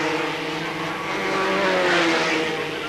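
Formula 3 race cars at Hockenheim in the 1989 German F3 Championship, a loud continuous engine roar that rises slightly in pitch as the cars pass through the stadium section.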